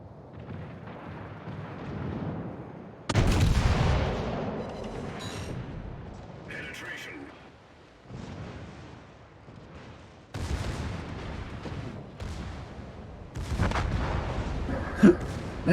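Guns firing during a training game, heard as bursts of loud, blasting shots in separate clusters with quieter gaps, fairly close and without talk.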